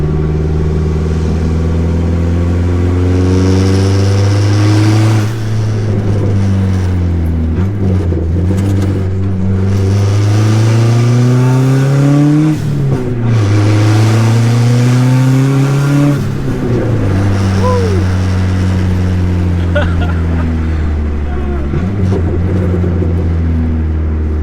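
Loud car engine revving hard with the exhaust cutout open, deep rising and falling harmonics in repeated pulls, raw and close throughout with no talk.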